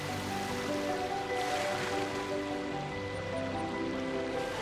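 A steady waterfall rushing in Genshin Impact, a continuous broad wash of falling water with game music tones layered underneath, constant in level throughout.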